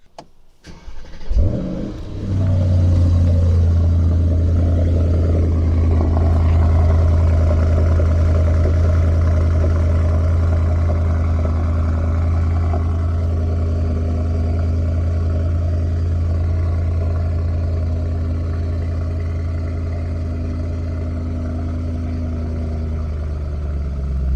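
A Mercedes E63s engine with stock exhaust fires up with a sharp burst, then settles into a deep, steady rumbling idle that lasts a long while, close and loud.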